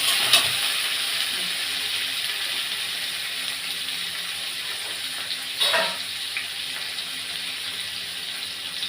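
Parboiled potato pieces sizzle in hot oil in a pan for a potato and tilapia fish curry, a loud steady hiss with a couple of brief stirring scrapes.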